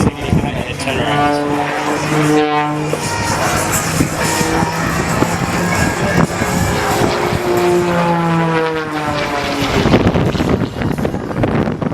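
An aerobatic propeller airplane performs at the Wings Over Illawarra airshow, its engine roaring and changing pitch sharply as it climbs and turns. Wind buffets the microphone, and a commentator talks over the sound throughout.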